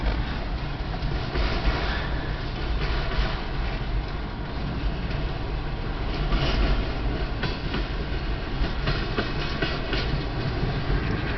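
A northbound CN freight train hauled by a CP locomotive rolls past in Kimball Township, Michigan, a steady loud rumble with wheel clatter throughout, no voices.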